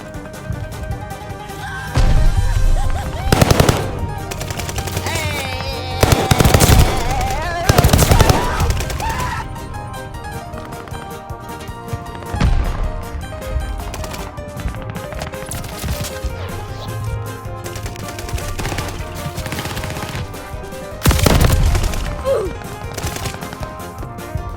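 Rapid automatic fire from a welding gun in Call of Duty Vanguard, coming in loud bursts between quieter stretches of game sound, with crashes and impacts mixed in.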